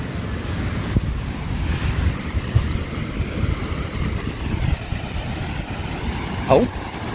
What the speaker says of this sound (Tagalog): Puyos ang hangin, grabeng lakas.